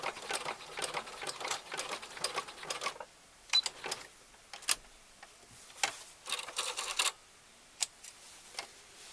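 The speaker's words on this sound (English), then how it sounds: "I'm just going to take it to there and back stitch to lock it." Close-up bursts of a sewing machine back stitching a scallop-edged cloud pillow, several short runs of rapid stitching broken by quiet pauses, with light ticks between runs.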